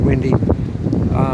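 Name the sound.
strong wind while sailing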